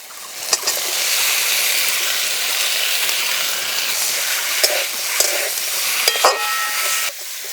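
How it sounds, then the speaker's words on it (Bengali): Spices with salt, turmeric and Kashmiri chilli powder sizzle steadily in a hot pan, a close, continuous frying hiss broken by a few scraping stirs of the spoon. "মশলা একটু নাড়াচাড়া করে ভেজে নেব"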